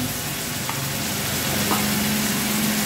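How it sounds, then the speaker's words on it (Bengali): Onion-garlic paste, ginger paste and tomato paste fry in hot oil, giving a loud, steady sizzle with a couple of soft scrapes as the mixture is stirred. "এবার এগুলো একটু ভাজছি, নেড়ে নিচ্ছি একটু।"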